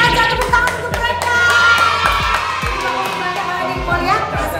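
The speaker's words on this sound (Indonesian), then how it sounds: "tepuk tangan untuk mereka" People clapping in a cafe, a loose round of applause with scattered claps and cheering voices, fairly close and lively throughout.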